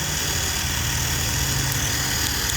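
A motorcycle, a Royal Enfield Himalayan on a long-distance ride, idles with a steady, loud, rumbling low throb that stays constant and close throughout, with no voices.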